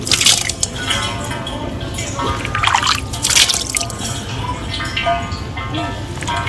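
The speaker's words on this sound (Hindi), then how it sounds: "आप पानी लेते हैं और नीचे छोड़ते हैं" Water drips and trickles with a ringing, biwa-like plucked-string tone at a water attraction in Enoshima, Japan, scattered splashes over a steady wet background.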